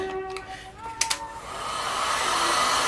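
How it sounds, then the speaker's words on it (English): A heat gun blows hot air onto candle wax in a cookie-shaped pan, a steady broadband rush that swells after a short click and runs loud and continuous to the end, with some faint background tones early on. "I'm going to take my heat gun, and I'm going to hit this a little bit."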